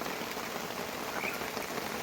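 Heavy monsoon rain pours down steadily in a dense, even hiss, loud and unbroken throughout.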